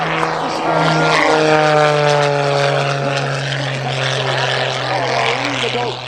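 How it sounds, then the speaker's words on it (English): A propeller aerobatic airplane flies low at an airshow, its engine drone steady and loud for the whole stretch with a strong low hum, while an announcer talks over it. "As we watch Skip just rock and roll out there below the power lines as he brings the airplane around."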